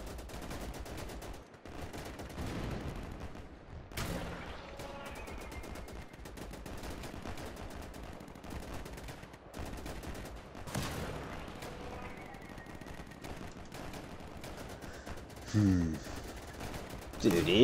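Machine gun fire rattles through a battle in the WWII shooter Easy Red 2, dense bursts of gunfire running nearly nonstop with brief pauses, mixed with other combat noise and a louder burst near the end.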